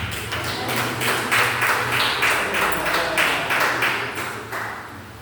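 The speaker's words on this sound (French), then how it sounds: "On va applaudir le prophète." An audience at a church gathering claps steadily for a prophet, dense broadband clapping sustained throughout at fairly even loudness, with faint murmuring beneath.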